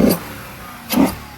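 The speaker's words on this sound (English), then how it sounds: "One more rev back here, brother." A Chrysler 300 SRT8 with a 6.1 Hemi V8 and stock exhaust revs twice close by, two short rising bursts about a second apart over a steady idle rumble.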